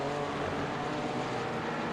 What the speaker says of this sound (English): Another set of McLarens here. I must say the McLarens look lovely on the course.